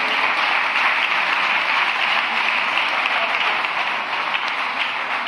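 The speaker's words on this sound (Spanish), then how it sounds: "Denle un aplauso al Rey bendito." Steady, dense applause from a church congregation, loud and sustained without pause for several seconds, with no voices standing out.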